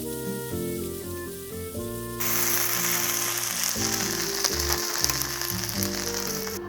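Julienned potatoes with garlic scapes and half a teaspoon of potato starch stir-fry in a pan, a steady sizzle that swells louder partway through beneath a prominent music track, with no talking.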